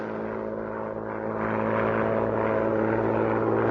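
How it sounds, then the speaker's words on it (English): A wartime propeller aeroplane drones overhead, a steady engine hum that swells slightly louder as it approaches, with no talking. "Sounds like an aeroplane."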